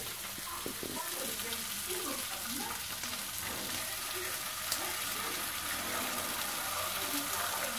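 Bacon and eggs frying in a pan, a continuous crackling sizzle with scattered pops, moderately close and steady throughout.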